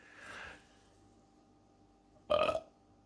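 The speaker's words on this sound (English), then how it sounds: "It displaced it and it made me bring it out with a burp." A single loud, close burp from a man erupts near the end, preceded by a soft throaty breath or gulp and otherwise quiet surroundings.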